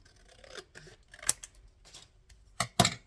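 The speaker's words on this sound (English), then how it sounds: "so I'm just going to very roughly trim one." Scissors roughly trimming paper for a dinosaur printable box card, a few quick close snips and crisp cutting strokes spaced irregularly, quiet, no voices.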